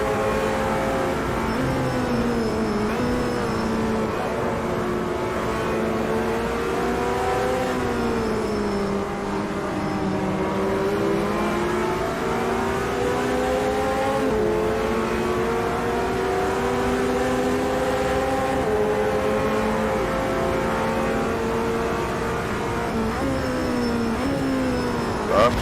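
GT3 race car in Automobilista 2 at the Nurburgring, its engine droning steadily with rising and falling pitch through shifts and corners, loud and continuous for the whole stretch.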